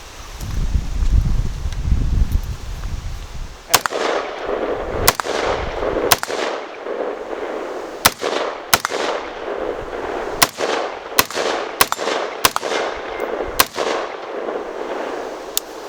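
An XM177 CAR-15 carbine fired outdoors, about a dozen sharp single shots at irregular intervals, loud and close, after a stretch of wind-like rumble.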